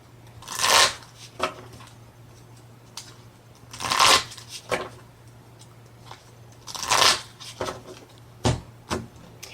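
A deck of Pokémon trading cards riffled several times, each brisk crackling burst separated by short pauses and light card handling, close by.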